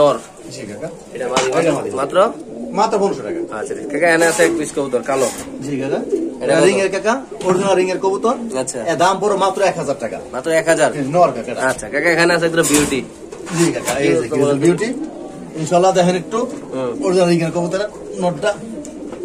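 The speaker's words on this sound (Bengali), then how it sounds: "এখানে আছে লাহোরি কবুতর দেখতে পাচ্ছেন কালো একবারে কালো কবুতর" Black Lahori pigeons cooing steadily at a crowded pigeon market, close and continuous, with someone talking over them throughout.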